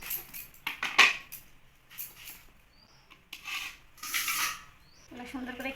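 Knife chopping sweet pumpkin and potatoes on a board for a vegetarian curry, with a scattering of close, irregular cuts and taps, a couple of louder knocks, and a quiet hiss of kitchen background.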